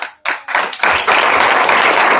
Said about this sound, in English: give the claps for him